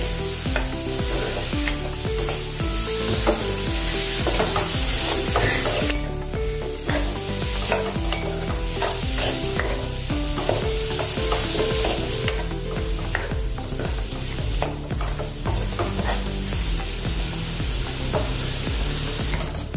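A spoon stirs palak mooli curry with cream in a hot pan, with continuous scraping and sizzling throughout, close and loud, no voices.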